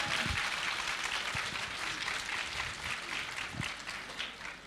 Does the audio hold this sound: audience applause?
yes